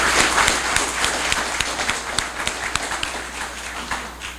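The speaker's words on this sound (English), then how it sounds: "Let's have a round of applause for our wonderful Boy Scouts." An audience applauds Boy Scouts at a police chief's swearing-in ceremony, with steady clapping continuing throughout and a few sharper individual claps standing out.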